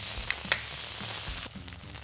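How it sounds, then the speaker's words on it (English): A salmon fillet sizzles in a pan, browning quickly with crispy skin, making a soft, steady frying hiss with a few light knocks, which drops quieter near the end. "This one's browning really fast, so I'm gonna go ahead and flip it"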